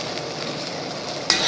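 Carrots glazed with butter and sugar in a pan sizzle steadily while being stirred, a soft continuous frying hiss with faint scraping, ending in a sharp clink of a utensil against the pan.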